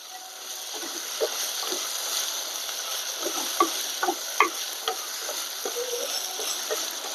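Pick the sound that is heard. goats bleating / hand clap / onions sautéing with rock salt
onions sautéing with rock salt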